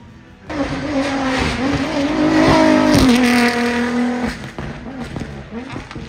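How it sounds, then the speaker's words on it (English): A nearby rally car engine revs hard, rising in pitch and holding loud for a couple of seconds before dropping back to a rough idle. "that is a proper rally car now"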